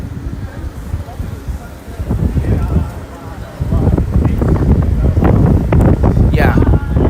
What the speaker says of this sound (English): Still very strong winds coming in.